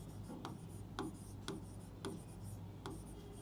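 Marker or chalk writing on a board during a physics lesson, several short scratchy strokes in an uneven rhythm, faint and close in a quiet room.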